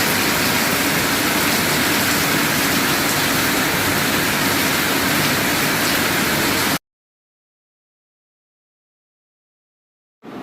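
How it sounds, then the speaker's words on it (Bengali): A heavy downpour of rain makes a dense, steady hiss that fills the sound for almost seven seconds, then cuts to silence before returning faintly at the very end. "আজকে সকাল থেকে দেখো একদম পুরো মুষলধারে বৃষ্টি শুরু হয়ে গেছে"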